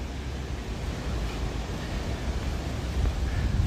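Steady rain falls outdoors on a street in Norrköping, Sweden, a continuous broadband hiss with low rumble, fairly close and unbroken, with no voices over it.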